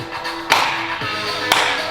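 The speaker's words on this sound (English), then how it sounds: "clap your hands" During a dance fitness class, two sharp hand claps land about a second apart, loud and close, with a faint sustained tone underneath.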